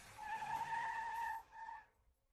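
A car brakes hard to a stop, tires skidding with a loud, sustained squeal that fades out, followed by a shorter second screech and then quiet.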